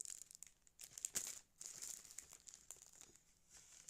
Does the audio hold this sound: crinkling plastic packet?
yes